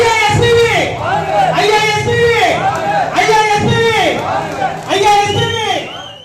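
Conference crowd of AIADMK supporters loudly chanting slogans in unison, rhythmic repeated shouted phrases with strong voices filling the space, steady and close throughout.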